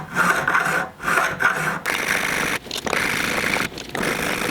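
Jointer blades are sharpened on a stone in a sharpening jig, making loud, gritty rasping strokes back and forth, each lasting about a second, separated by brief pauses, close up and without talk.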